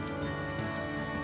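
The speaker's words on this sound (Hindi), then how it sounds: "तीसरे दिन भी बारिश रुकने का नाम ही नहीं ले रही थी।" Steady rain falling and pattering on surfaces, a dense continuous hiss for a brief moment with no voices.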